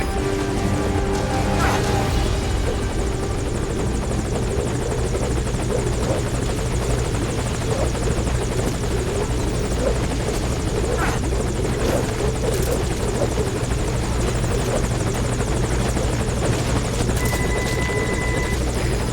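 A military helicopter hovers at a landing zone in the game Metal Gear Solid V, its rotor and engine producing a loud, continuous thrumming roar that holds steady close by the whole time.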